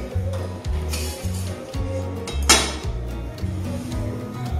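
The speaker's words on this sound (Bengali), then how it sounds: "কড়াইটা বসিয়ে দিলাম আমি" A metal kadai set down on a home kitchen stove while cooking moong dal with mixed vegetables, giving a few close clinks and one sharp metallic knock amid low kitchen hum.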